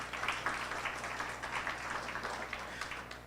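Faint, distant applause at the close of a conference or forum, a steady wash of many hands clapping over a low hum, with no voices.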